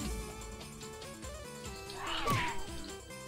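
A grumpy cat in a Brazilian meme video game lets out one drawn-out, whining meow over game music.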